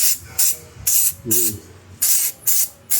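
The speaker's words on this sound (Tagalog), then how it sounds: "Pag-spray ng brake cleaner, hindi ka magastos, ganun lang, oh." Brake cleaner sprayed onto the brakes of a Mitsubishi Adventure in short, loud hissing bursts, about six in a row with brief gaps, while a voice briefly sounds under one of them.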